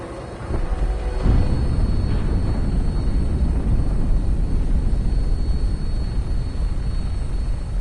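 An aircraft comes in to land in the Fallout 4 video game, a loud, steady engine drone and rumble that swells early on and then holds without letup, with no talking.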